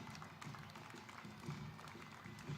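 Audience applause for a university team at a summit inauguration ceremony, a steady, faint wash of many hands clapping at a distance, with no voices over it.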